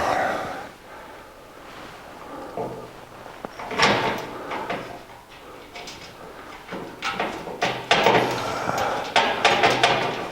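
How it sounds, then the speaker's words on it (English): Several sharp metallic hammer blows on a punch in a leaf-spring shackle mount of a 1982 Jeep CJ7 ring out in an irregular series, close and loud, mixed with clatter of tools being handled. "we'll put it in the shackle mount and hit it with a hammer"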